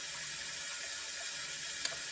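Warm water sprays steadily from a Tushy spa-version bidet attachment, a continuous close, moderately loud hiss of running water with no talking.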